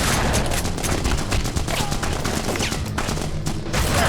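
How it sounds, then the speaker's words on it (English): Dense, continuous gunfire effects from The Punisher video game, rapid bursts of automatic shots layered over one another at steady loud volume, with faint voice-like sounds mixed into the action. "the game has some solid effects with the guns, since that's what you'll be hearing a lot from level to level"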